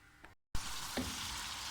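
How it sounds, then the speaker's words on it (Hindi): Onions fry in three spoons of hot oil in a pan for a chickpea curry; after a brief silent gap, a strong close sizzle bursts in and holds steady, with a light clink of stirring, no talking. "डाल के अब मैं प्याज को फ्राई करूँगी।"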